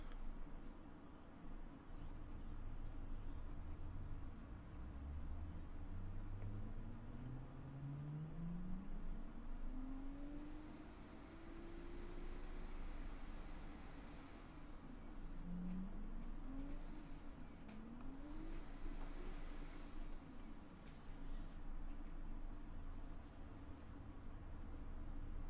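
Virtual car engine of about 700 horsepower and 700 Nm of torque in the Automation game, revving in a steady engine drone with rising pitch sweeps as it climbs through the revs, lasting throughout with no talking.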